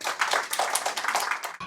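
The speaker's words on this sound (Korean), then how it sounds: "박수 한번 쳐주세요." Audience clapping at a Korean investment lecture, a dense burst of many hands clapping together at close range, loud and lively for about a second and a half before it cuts off abruptly.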